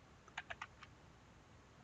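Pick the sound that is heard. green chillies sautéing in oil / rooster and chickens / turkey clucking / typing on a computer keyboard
typing on a computer keyboard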